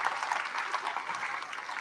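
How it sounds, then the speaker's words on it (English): A school career day audience claps together in brief, dense applause that fills the room evenly throughout. "let's clap it up for everyone in here"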